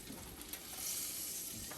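Morel mushrooms pan frying to golden brown give a soft, steady sizzle that swells slightly midway, then ends with a brief louder scrape or crackle.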